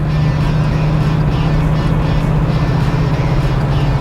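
A 1967 Chevelle SS V8 pulls hard in third gear under acceleration, giving a loud, steady, deep drone heard from inside the car with constant road and wind roar. No one speaks.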